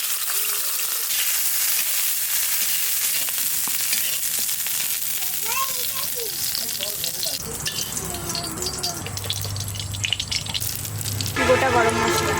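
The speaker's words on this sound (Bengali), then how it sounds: "কড়াই গরম হয়ে গেছে, কড়াইতে দিচ্ছি একটু ঘি" Whole garam masala sizzles in hot ghee in a large wok, a steady close crackle and hiss with stirring scrapes, while a person talks intermittently over the frying.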